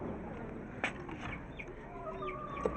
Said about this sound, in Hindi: और इधर हमारे मुर्गियाँ